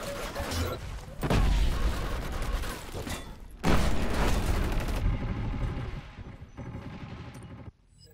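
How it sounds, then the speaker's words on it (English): A grenade blast and heavy gunfire in the shooter Killzone Shadow Fall during a 4v3 clan match, with loud bursts and booms cutting in repeatedly and a deep explosion midway. "Grenade!"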